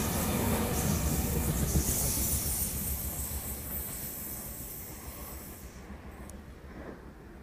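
A Sydney Trains electric passenger train (Oscar set, Penrith service) rumbles past close by at Croydon station, steady broadband roar with rail noise, gradually fading as it moves away.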